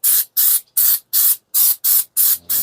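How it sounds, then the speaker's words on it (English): A Gorilla Waterproof Patch & Seal spray can held upside down hisses in seven or eight short, loud, close bursts separated by brief silences, with no talk. "hold it upside down and press it down until it sprays clear for a few seconds"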